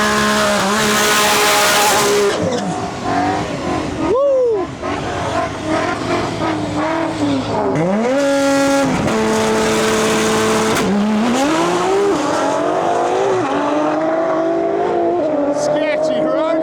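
Trevor Brandon's Nissan GTR makes a drag racing pass at an Alberta drag-and-drive event, its loud engine rising and falling through repeated gear changes close by, with speech over it.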